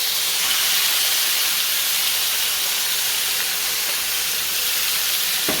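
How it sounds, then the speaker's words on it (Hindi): Marinated boneless chicken fries in a pan with onions, giving off a loud, steady hiss of sizzling that holds evenly throughout, with no talking. "चिकन को भी हम अच्छे से फ्राई करेंगे इसके वाइट होने तक"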